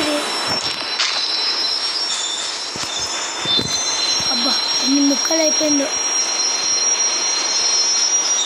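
A metro train in the Indian Bike Driving 3D video game pulls into a station with high, steady wheel squeal and rumble as it slows to a stop, while a person talks over it.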